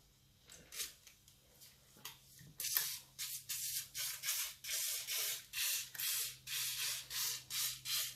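WD-40 is sprayed into a Honda CB400T motorcycle carburettor in short, rhythmic bursts, sparse at first and then coming quickly and regularly, about a dozen hissing pulses close to the listener with no voices.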